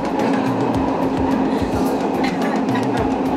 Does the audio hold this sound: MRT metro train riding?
yes